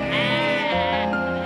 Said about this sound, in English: These fields at the Orway Porch Farm have been home to this flock of shaggy sheep